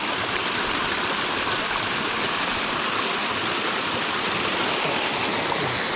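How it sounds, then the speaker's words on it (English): A mountain stream of water rushing across a hiking trail at Snoqualmie Pass, a steady, dense broadband roar that stays constant and close throughout, with no voices. "There have been a lot of water crossings here."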